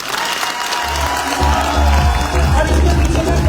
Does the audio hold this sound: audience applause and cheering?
yes